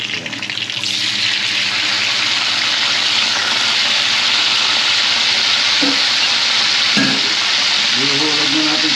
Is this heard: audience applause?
no